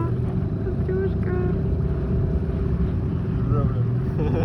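A Sea Pro outboard motor drives a Skat boat on a river near Astrakhan, giving a steady loud drone with wind and water rush throughout while people talk over it.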